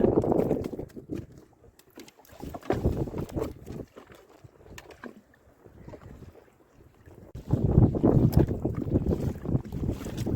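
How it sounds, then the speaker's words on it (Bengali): Strong wind buffets a fishing boat out on the water in the Sundarbans during a Kalbaishakhi storm, its roaring gusts swelling and easing, loudest at the start and again toward the end, with no voices. "এখনো কিন্তু বন্ধুরা হাওয়া কমেনি"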